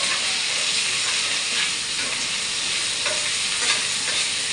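Yellow pumpkin pieces sautéing in a pan for chutney, a dense, steady sizzle and hiss close up with faint stirring scrapes, continuous and without talk.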